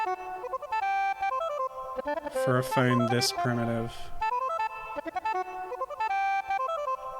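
Tinny melodic chiptune music from the mobile version of the video game Rayman Raving Rabbids plays steadily with a brief louder flourish midway, while someone talks over it.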